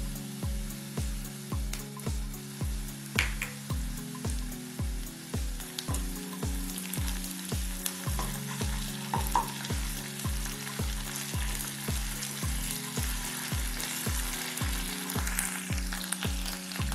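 Onion with ginger garlic paste fries in a pan for a masala egg fry, a soft continuous sizzle beneath a steady, thumping musical beat.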